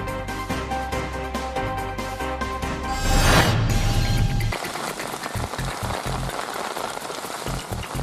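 Rain falling on surfaces, a dense continuous patter that swells briefly in the middle and then turns into steady hiss with scattered drops.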